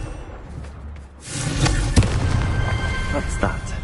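Confringo fire blast spell in Hogwarts Legacy, a sharp crackling burst with a thud, followed by fizzing, popping debris and rumble, close and loud.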